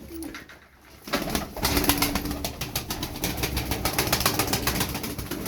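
Turkish tumbler pigeons, game birds, coo and rustle close by in a loft, a dense steady chorus of soft calls with faint flapping and no speech.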